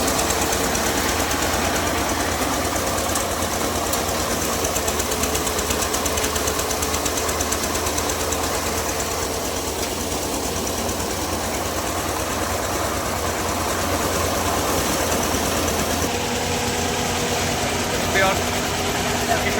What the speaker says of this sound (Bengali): বৃহৎ আকার একটি মেশিন মেশিন দিয়ে কীভাবে সরিষা মারায় কাজ করছে